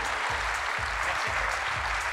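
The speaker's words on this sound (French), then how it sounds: "fassiez un tonnerre d'applaudissements" Steady applause from a crowd at a sports awards ceremony, dense and continuous clapping filling the whole moment with no voices standing out.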